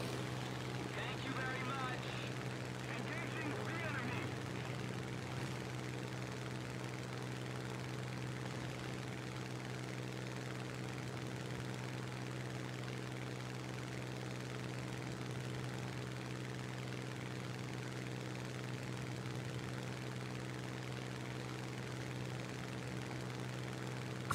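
Propeller plane engines in War Thunder drone in a steady, continuous hum under players talking throughout, with a brief busier burst near the start.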